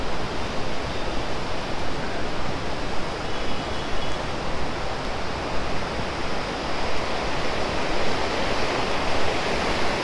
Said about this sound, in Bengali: আমি আপনাদের দেখাই কিছুটা অংশ সহস্রধারারই জলধারাটা